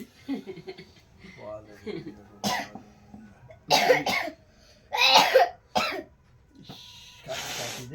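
Several harsh coughs burst out in quick succession in the middle of the stretch, close and loud, from a person at a birthday celebration, with quieter chatter and background voices around them.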